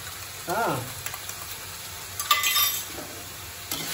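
Mutton masala frying in a pan for a traditional South Indian mutton curry, with soft sizzling, a few stirring scrapes and clinks, and brief faint voice-like sounds.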